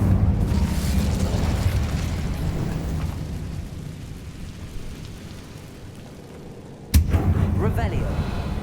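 Incendio fire spell cast in Hogwarts Legacy: a sustained rumbling, roaring burst of flame that fades out, then a sharp sudden crack followed by crackling debris.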